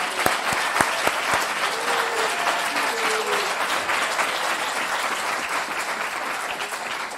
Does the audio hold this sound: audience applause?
yes